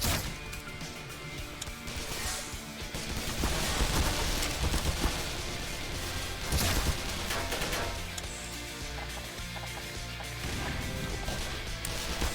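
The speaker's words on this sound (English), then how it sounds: "Wow, I just ate that explosion." A loud, dense burst of blasts and crashing debris from an explosion in a first-person shooter game, swelling over a steady bed of combat noise with several heavier impacts partway through.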